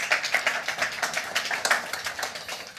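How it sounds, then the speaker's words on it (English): An audience claps for a presenter at an evening hangout event, a modest crowd producing quick, irregular hand claps that continue briskly for a few seconds. "Round of applause for him as well"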